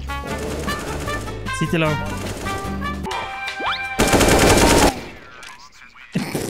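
Rapid Rec 9 gunfire from a competitive shooter match, bursts of shots mixed with game music and effects, with a player talking over the action.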